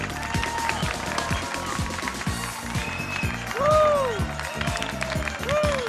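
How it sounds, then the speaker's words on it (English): A church congregation at a Christmas drama performance claps in a steady, rhythmic round of applause, with sliding whistles and some cheering over the clapping. "Let's give them another round of applause."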